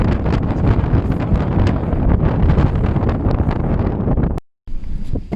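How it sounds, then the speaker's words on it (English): Strong wind near a salt flat in Jujuy, Argentina, roaring and buffeting against the microphone in a loud, continuous rumble with gusty pulses and one brief dropout. "it's really windy"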